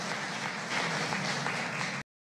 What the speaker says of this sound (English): let us plead applause